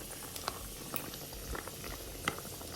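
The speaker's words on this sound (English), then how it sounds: "Now it's at boiling, and I boiled it for about 20 minutes already." Water at a steady boil in a cooking pot, a continuous low bubbling and rumbling with scattered sharper pops and light clinks, fairly quiet and close, with no talking.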